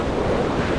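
Steady wind roars across an exposed island height in the game Dear Esther, a dense, even whoosh with a surf-like wash, loud and continuous with no voices.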